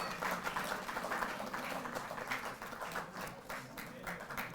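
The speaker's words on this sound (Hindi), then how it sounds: "आपकी तालियां इस अवसर को अविस्मरणीय बनाएंगी" Audience applauding at a felicitation ceremony for Asian Games 2022 medal winners, a faint, dense, steady patter of many hands clapping with no break.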